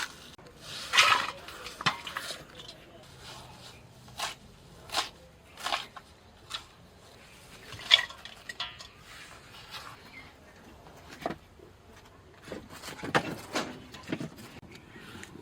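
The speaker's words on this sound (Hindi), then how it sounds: "तो सारा साग को इस तरह से रफली काट देते हैं।" A knife chops gurmi saag roughly on a board in uneven bursts of sharp, close taps, with short pauses between strokes.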